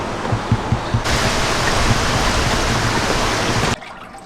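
Water pours steadily at Ireland's biggest holy well, a loud, broad rushing flow that starts abruptly after a few soft knocks, holds for under three seconds, then cuts off, leaving quiet ambience.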